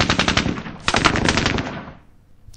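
Rifles in a video game fire a rapid automatic burst of close, sharp shots for nearly two seconds, then a short gap and one more crack.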